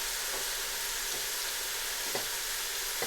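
Garlic frying in hot oil gives a steady, close sizzle with faint stirring scrapes and small pops, heard alone with no talking.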